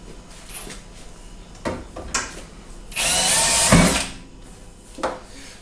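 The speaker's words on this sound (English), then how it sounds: "So I just need to drill a hole. Hopefully that will go through gently." A power drill whirs for about a second at high pitch, drilling a hole inside a caravan, surrounded by a few clunks and knocks of handling nearby.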